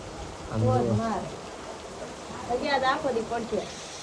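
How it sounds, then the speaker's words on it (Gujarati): Steady heavy rain hisses in the background throughout while people talk over it in short bursts. "બાકી વરસાદ પડે છે ભાઈ."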